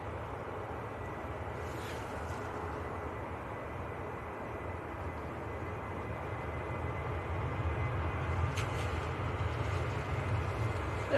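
A Ryanair jet rolls for departure at Manchester Airport, bound for Funchal. Its steady, distant engine rumble holds throughout and swells slightly toward the end.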